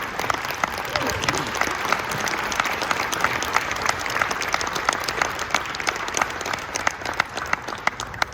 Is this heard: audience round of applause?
yes